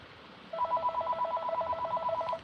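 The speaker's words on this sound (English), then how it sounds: "That's the phone ringing." Electronic telephone ring trilling in a rapid warbling pattern for about two seconds, fairly clear and alone over a faint room hiss, with no talk.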